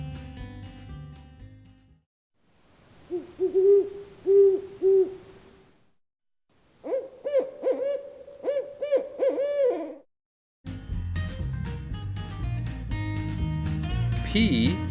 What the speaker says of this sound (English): Have you ever heard an owl?